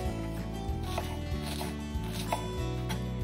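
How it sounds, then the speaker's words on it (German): A knife dices onions steadily on a cutting board, quick rhythmic taps over a low humming background. "In der Zwischenzeit würfeln wir die Zwiebeln."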